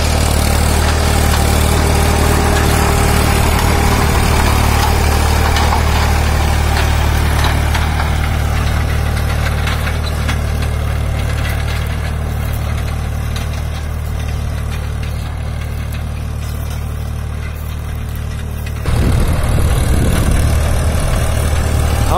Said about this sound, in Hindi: आवाज सुनिए आप, क्या शानदार आवाज है, काफी बड़ा ट्रैक्टर है।